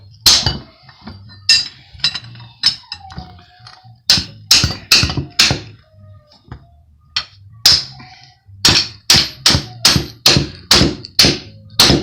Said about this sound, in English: Where's my mini maul? There it is. Alright, so you give it some love taps.